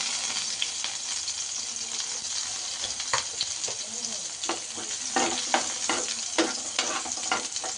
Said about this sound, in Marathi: तर आता आपण याच्यामध्ये अद्रक आणि लसूण आणि मिरची फ्राय करून घेऊ.